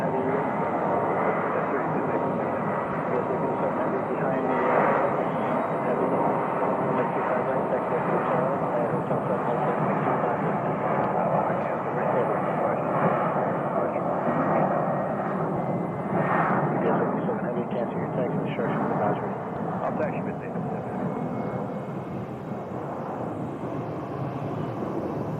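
A Southwest airliner takes off from runway 25 left at Phoenix Sky Harbor Airport, a sustained loud jet roar heard from a distance that swells and holds, with people talking over it.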